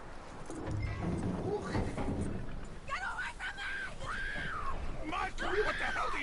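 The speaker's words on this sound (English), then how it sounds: "That looks like a decent horse. You should keep him." Horse hooves clip-clopping with a brief whinny in the Western video game Red Dead Redemption 2, set beneath continuous character dialogue and game ambience.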